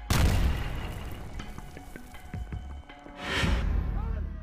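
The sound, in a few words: explosion boom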